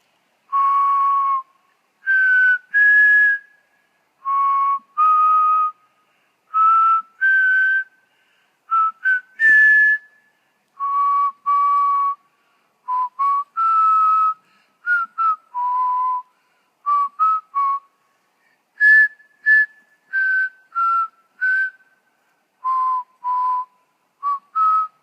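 A person whistles a lively tune alone, short clear melodic phrases repeated in a steady rhythm with brief pauses between them.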